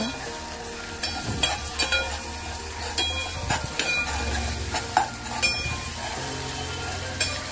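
Ginger and a pinch of turmeric sizzle steadily in a hot pan as a spoon stirs them, with scraping and light clinks of utensil against metal throughout.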